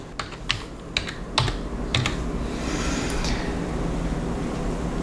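A few crisp keystrokes on a computer keyboard while entering a command into AutoCAD, sharp close clicks spaced over the first two seconds, then only a steady background hum.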